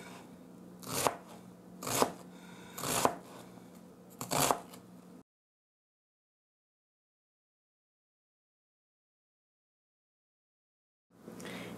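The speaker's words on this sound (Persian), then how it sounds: "پیاز رو نگینی خورد میکنیم" Knife dicing onion into small cubes for Persian celery stew, four crisp chopping strokes on a board at a steady pace, then a long silence before faint kitchen noise returns.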